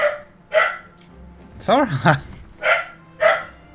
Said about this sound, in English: I'll go see what she's barking at.